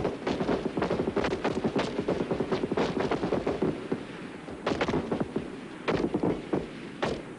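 Rapid gunshots from rifles firing at a shooting range, a steady series of sharp cracks in quick succession with short pauses between bursts, loud and close.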